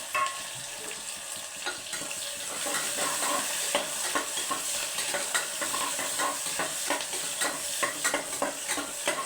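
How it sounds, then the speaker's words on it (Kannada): One large onion added to hot oil in a frying pan and stirred, a steady crackling sizzle with frequent scraping strokes that grows fuller after the first couple of seconds. "ಈರುಳ್ಳಿ ಹಾಕ್ತಾಯಿದ್ದೀನಿ ನೋಡಿ"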